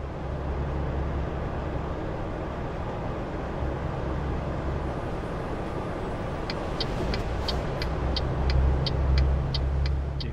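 A truck drives in a truck simulator game played with a Logitech G27 steering wheel: a steady low engine drone and road rumble run throughout, joined near the end by a rapid series of ticking clicks, with no speech.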